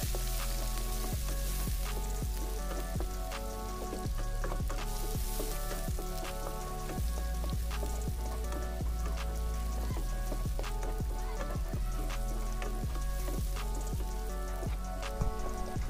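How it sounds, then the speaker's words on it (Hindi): Finely chopped onion fries in a pan with cumin and mustard seeds for poha, a steady loud sizzle running throughout with frequent sharp crackles and pops, no voices. "अब हम इसके अंदर बारीक कटा हुआ प्याज डालेंगे"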